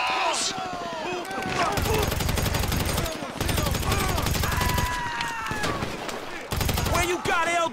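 Sustained automatic gunfire in GTA V, long rapid bursts of loud, close shots separated by brief pauses, with shouting voices and talk over the shooting.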